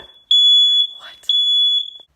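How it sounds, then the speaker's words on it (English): A smoke alarm sounds in a home kitchen while the oven heats to 450 degrees for baking, giving two loud, piercing high-pitched beeps, each about half a second to a second long, close by and alone. "So the fire alarm did go off."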